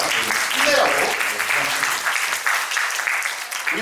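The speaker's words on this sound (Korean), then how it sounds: "우리 고3 친구들에게 한번 위로의 박수 한번 쳐줄까요?" A church congregation claps for high school seniors, a brief burst of loud, dense applause that fades slightly toward the end.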